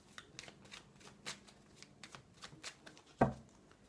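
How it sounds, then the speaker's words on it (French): Oracle cards are handled and covered with a mirror oracle deck, giving soft, close shuffling and sliding card sounds in a quick irregular rhythm, ending with a sharper tap. "Allez, je recouvre ces cartes."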